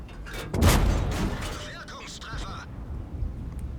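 In the World of Tanks video game, a Tiger (P) tank cannon fires one loud, booming shot with a rumbling tail, followed by someone talking over fading game noise.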